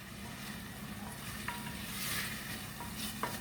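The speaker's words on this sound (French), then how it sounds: "Donc maintenant, on va ajouter mes tomates. Et on va les laisser fondre" Tomatoes tipped into a pan over lowered heat for a homemade ratatouille of fresh vegetables sizzle with a steady frying hiss, while occasional stirring scrapes come through close by. No one speaks.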